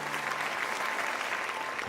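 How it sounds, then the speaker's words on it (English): An audience applauds after a play, a steady wash of many hands clapping together for about two seconds with no voices over it. "everyone clapped"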